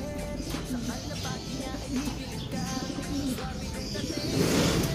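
Racing pigeons resting in a loft give off soft, low, repeated coos over a steady background rumble, with faint voices and chirps mixed in and a louder swell of sound near the end.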